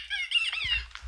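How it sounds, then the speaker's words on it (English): A rubber ducky toy squeaks several times in a quick, close, high-pitched burst, with no talking over it. "Squeak, says the little rubber ducky."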